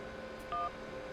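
A short burst of telephone keypad dialing tones from the video game Syberia, a few clear electronic beeps around the middle over a faint steady background hum.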